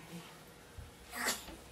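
A single quiet sneeze, a brief breathy burst against faint background noise.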